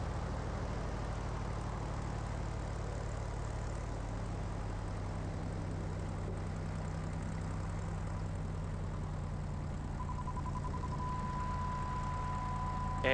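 A Cessna 172 propeller engine drones steadily in flight, a low continuous hum from inside the cabin, with a brief rise in sound right at the end as power is added.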